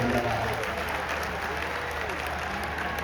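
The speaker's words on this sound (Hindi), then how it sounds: "ये एक बार ताली जोरदार बजा करके" A religious gathering's audience claps loudly and steadily, a dense wash of applause from a large crowd lasting the whole stretch.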